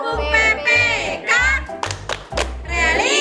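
Schoolchildren perform a rhythmic classroom clap routine, with sharp patterned claps and taps cutting between chanted voices.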